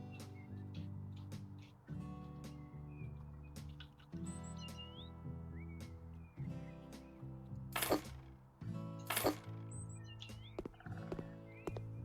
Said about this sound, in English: I love the sound of the birds in this game.